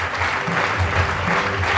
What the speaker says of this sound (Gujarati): અંતરથી હાથ ઊંચા કરી તાળીઓની વધામણા કરી.